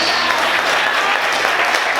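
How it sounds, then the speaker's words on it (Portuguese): Church congregation applauding the Lord during a Portuguese-language sermon, a steady wash of clapping hands filling the whole stretch, dense and continuous with no talk over it. "Você pode aplaudir o Senhor e adorar o nome de Deus."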